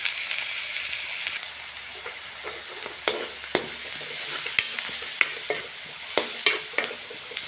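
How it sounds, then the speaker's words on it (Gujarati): Onion, garlic, green chillies and bay leaf sizzle steadily in a pan for butter masala chole, with several sharp clinks and scrapes of a spoon stirring throughout. "ડુંગળી બહુ સરસ મજાની શેકવાની છે।"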